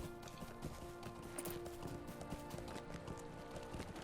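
Horse hooves clip-clopping at a steady running rhythm while riding in the Lord of the Rings Online video game, a continuous loud beat over background game ambience and music.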